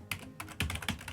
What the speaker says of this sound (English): Alternatively, you could type in our domain address,